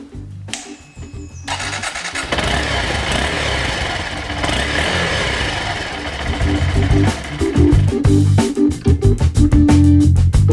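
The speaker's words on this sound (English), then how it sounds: "So this is the sound of the standard exhaust." A motorcycle with its standard stock exhaust starting up and then running, a close, uneven engine note at idle that grows choppier and louder toward the end, with no talk.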